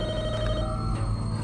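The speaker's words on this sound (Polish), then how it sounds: "Lepiej odebrać telefon." Telephone rings in a Walking Dead video game, one short electronic ring tone sounding clearly and alone, with a low background hum.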